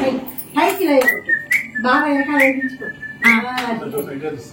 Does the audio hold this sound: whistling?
yes